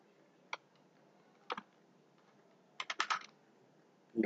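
Computer keyboard being typed on during a software walkthrough: sparse, close clicks with a single tap, a short pair, then a quick burst of keystrokes, set against near silence.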